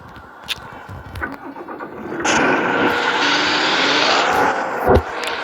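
An engine is cranked and catches after a few short clicks and knocks, then settles into a steady, fairly loud running roar close by, with a brief thump near the end.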